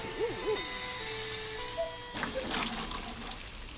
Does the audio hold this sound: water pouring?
yes